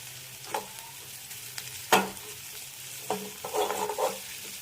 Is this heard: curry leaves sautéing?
yes